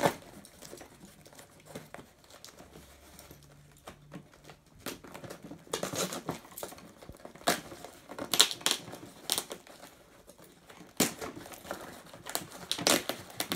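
A well-taped package holding a razor is opened with bubble wrap inside, giving close crinkling, crumpling and tearing noises that grow busier in irregular bursts, with faint background sounds and no talk.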